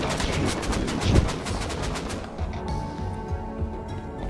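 A turret machine gun fires in Rust Console Edition, a fast loud burst of rapid shots for about two seconds, then trailing scattered gunfire and game noise.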